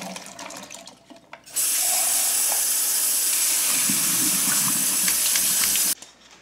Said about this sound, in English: it's a good time to go ahead and drain and rinse the pintos